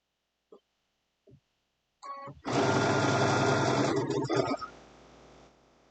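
A sewing machine stitching fabric for an Easter basket runs in one loud, fast continuous burst for about two seconds, then slows and stops, preceded by a few short clicks and taps.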